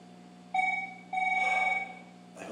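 Telephone ringing with two electronic trill bursts, loud and near, with no one speaking.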